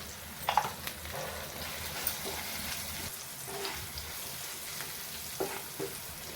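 Garlic sautéing in a pan for a dry okra (bhindi) dish, a steady soft sizzle with occasional louder stirring clinks and scrapes, close by and without speech.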